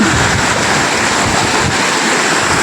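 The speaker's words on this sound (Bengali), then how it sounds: "গপ গপ করে জল বেরোচ্ছে দারুণ লাগছে চারিধারটা" Water gushes out in a strong stream at a crowded fair, a loud continuous rushing wash that fills the scene with no pauses.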